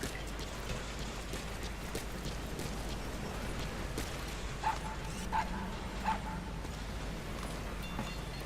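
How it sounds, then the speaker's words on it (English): A puppy in Metal Gear Solid V: The Phantom Pain gives three faint, short barks a little apart, mostly buried under a steady rain-like hiss of ambient noise. "Puppy the boss brought back is so cute."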